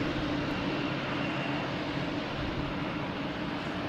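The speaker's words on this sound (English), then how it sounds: "That is Lufthansa A340-600. That is rolling down." A Lufthansa Airbus A340-600 rolling down a runway at Boston Logan Airport for takeoff, a steady broad engine roar that holds constant and loud for the whole stretch, with no talk.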